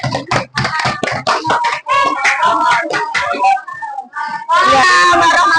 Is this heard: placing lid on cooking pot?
no